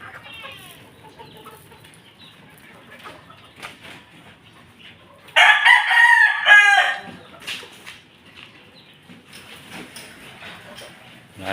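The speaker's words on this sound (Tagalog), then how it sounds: "Malaki na ating mga pulit, mga bakard, oh." Backyard pullets cluck softly and intermittently at first, then one bird lets out a loud, strained crow that stands well above the quieter clucking before the flock settles back to low murmurs.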